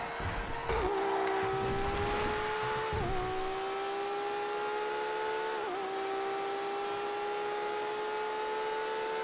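Supercars and lowriders race in GTA FiveM, engines droning loud and steady with pitch shifts as they shift gears, a continuous near engine roar throughout.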